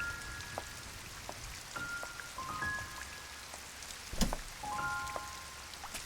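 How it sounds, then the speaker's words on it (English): Steady rain patters throughout a scene from the anime The Garden of Words, with faint chime-like tones drifting above the downpour and a brief louder splash near the end. "Clouded skies. Perhaps rain comes."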